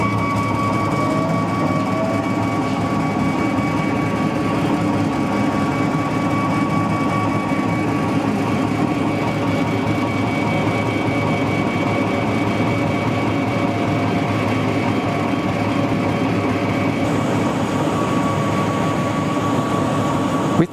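An MW Laser J Series engraver (J630/J750) with a roller rotary attachment runs with a loud, steady mechanical hum and faint whining tones, unbroken for about twenty seconds.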